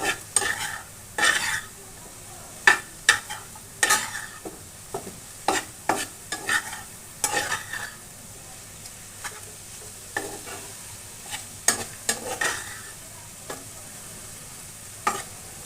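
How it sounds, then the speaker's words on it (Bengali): Cabbage with chilli powder, coriander powder and green chillies being stirred in a frying pan: repeated, uneven scrapes and knocks of a spatula sound up close over a soft background sizzle. "ছোটো ছোটো কয়েকটা কাঁচা লঙ্কা দিয়ে নেড়ে চেড়ে মিক্স করে দেব।"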